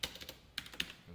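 A computer keyboard clicks as code is typed, several quick, close, quiet keystrokes in an irregular rhythm.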